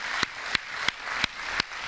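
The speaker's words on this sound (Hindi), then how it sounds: "तालियों के साथ स्वागत एक बार फिर से।" An audience applauds in welcome for a speaker at an evening event, rapid dense clapping continuing steadily and moderately loud, with a few sharper sounds standing out at regular intervals.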